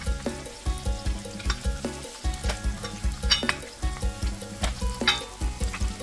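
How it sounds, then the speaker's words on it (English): Prawn balls deep frying in hot oil, a loud, steady crackling sizzle with bursts of popping bubbles that continues throughout. "let's go deep fry my prawns balls"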